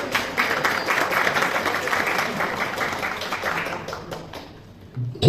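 An audience at a prize-giving ceremony applauds in a dense, steady wash of clapping that carries for several seconds, then thins out and fades near the end.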